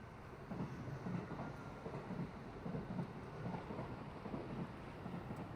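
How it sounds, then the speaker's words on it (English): A train rumbles past near Suma Fishing Park in Kobe, a steady low roar with faint rhythmic clatter that holds throughout, with no talking. "a train going by"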